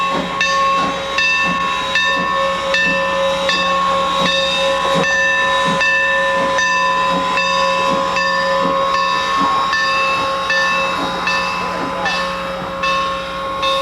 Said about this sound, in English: trains, including America's oldest short-line railroad